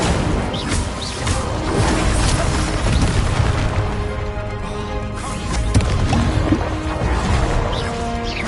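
An Incendio fire spell cast in Hogwarts Legacy, a busy crackling, whooshing burst with dripping, splashing textures and a few sharper impacts, loud and continuous for several seconds with no voices.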